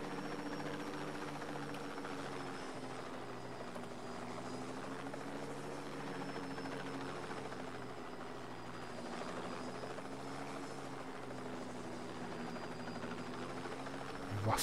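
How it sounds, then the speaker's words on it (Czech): Helicopter in the video game Just Cause 2, a steady rotor thrum and engine drone that holds evenly throughout, quiet and continuous with no talk. "Vlastní vrtulník, který mi tady vlastnoručně zmizí."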